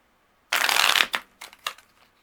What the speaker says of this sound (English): Spirit does not want me to shuffle those any more than it already is